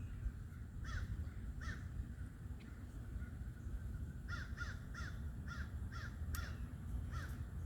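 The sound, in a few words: crow cawing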